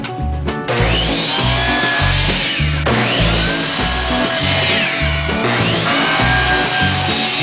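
A power saw cutting short pieces of pallet wood, loud and close, with three repeated cutting passes whose whine rises over a constant motor drone.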